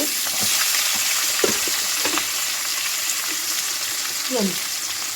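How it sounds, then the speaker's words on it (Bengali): Onions fry in a pan for chilli chicken with a dense, loud, continuous sizzle, broken by a few scrapes of a spatula against the pan. "যেই সবজিগুলো কেটে রেখেছিলাম হালকা আছে ভেজে নেব প্রথমে আমি পেঁয়াজগুলো দিলাম"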